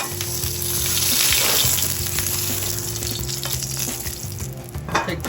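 Ingredients sizzling loudly in a hot pan in a pizza bar kitchen with sauce nearby, a dense, continuous frying hiss with occasional stirring clatter and no voices.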